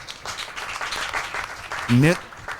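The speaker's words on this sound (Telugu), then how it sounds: "ఇప్పుడు కొట్టండి చప్పట్లు." A church congregation claps steadily in a loose patter during a service, with a voice rising briefly over the applause.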